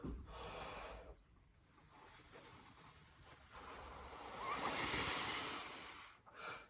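A musician takes quick, forceful breaths during metronome practice, a series of close, airy gasps and rushes of air that swell and fade without speech.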